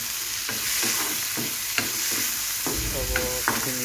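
Beans stir-fry with chicken in a hot pan, with constant sizzling and a rhythmic series of scraping stirs from a spatula, close and steady.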